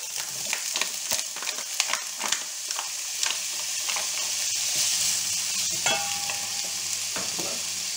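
Bacon lardons fry in a pan for tartiflette, giving a steady close sizzle broken by scraping stirs and light clinks. The stirring strokes come irregularly over the constant crackle, and no one speaks.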